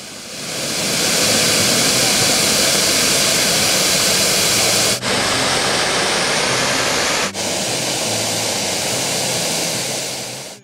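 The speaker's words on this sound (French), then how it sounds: "Les jets émettent jusqu'à des hauteurs jusqu'à 50 mètres à 200 degrés centigrades" Steam geysers of the Sol de Mañana field, spread over 10 km² at 4,850 m near Potosí, Bolivia, hiss and roar in a loud, continuous broadband rush with no talk and only two brief dips.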